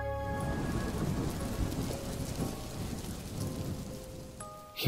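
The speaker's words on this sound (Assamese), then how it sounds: "সেই বিজুলী ঢেৰেকনিৰ লগে লগে নামি আহিছিলে এজাক বৰষুণ।" Steady heavy rain pours with rumbling thunder underneath in a narrated Assamese folklore ghost story, a dense continuous hiss with low rolling booms and faint musical tones, no speech, ending in a sudden louder hit.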